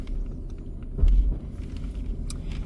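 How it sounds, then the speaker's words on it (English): A vehicle rolls past on Planet Ranch Road, a dirt road at the Bill Williams River wildlife refuge, as a low rumble that swells briefly, then fades under steady outdoor background noise. "We're letting a vehicle pass us."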